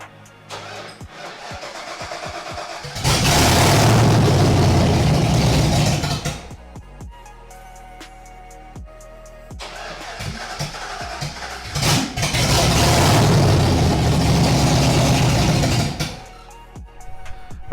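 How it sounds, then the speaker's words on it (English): A 1980s Ford Mustang Fox-body engine cranks twice, each time roaring briefly for several seconds before cutting out, with quieter rattling and clicks in between attempts. "I'll go ahead and crank it for you guys and see what the car does"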